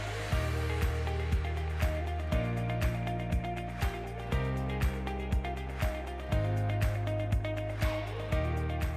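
A home sewing machine set up for free-motion micro quilting stitches pebble patterns at a steady cruise speed, its rapid needle rhythm running continuously with periodic brief pauses and restarts, close and fairly loud with no talking.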